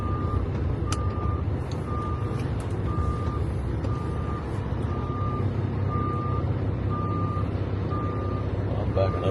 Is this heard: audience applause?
no